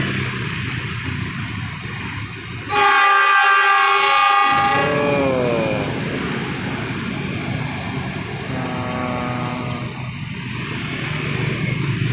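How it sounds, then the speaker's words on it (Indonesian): The Argo Parahyangan passenger train, hauled by a CC 206 locomotive, rumbles past steadily near Jatinegara Station, its loud two-tone horn sounding for a couple of seconds, then a fainter horn call later as the rolling noise continues. "kereta api Argo Parahyangan"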